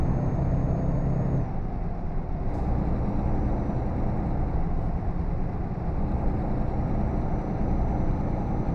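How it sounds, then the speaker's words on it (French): Steady rumbling truck engine noise in Euro Truck Simulator 2 drives on without a break, loud and continuous, with no voices. "Je roule avec son camion pour sa marchandise."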